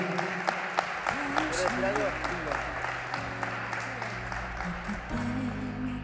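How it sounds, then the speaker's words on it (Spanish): Audience applause at a Spanish-language singing competition, first audition in the senior category, steady and fairly loud across the whole stretch while a voice talks over it. "pido un fuerte aplauso para el señor Daniel Murga"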